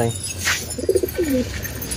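Pigeons coo close by at a home, with soft throaty bubbling calls in short bursts and a faint chirp over a light background.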